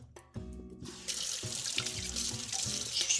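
Kitchen sink tap turned on to rinse items, water gushing steadily into the basin with splashing and clinking over a low musical background, close and continuous after a brief start.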